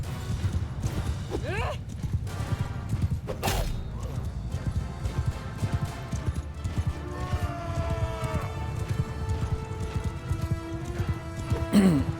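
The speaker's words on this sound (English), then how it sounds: "This is just horses running to get up speed. Listen to that." Horses gallop in the medieval battle game Mount & Blade II Bannerlord, with steady rolling hoofbeats throughout, occasional whinnies, and a voice talking over the running herd.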